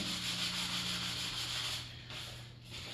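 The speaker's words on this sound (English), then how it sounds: "I'm just lightly sanding the line smooth." Light, steady sanding strokes rub along a panel line, a continuous scratchy hiss up close with no talking.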